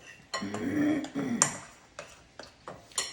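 Pancake batter is mixed in a bowl with a utensil, giving a few close clinks and scraping knocks against the bowl in an irregular rhythm, with no talking.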